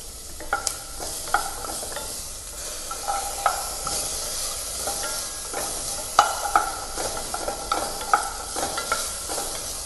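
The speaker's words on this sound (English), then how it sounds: "By the time I'm finished sauteing the vegetables, this would give my soup an extra taste." Vegetables for minestrone soup sauteing in a pan, a constant close sizzle broken by repeated scraping stirs and clicks of a utensil, with no voices.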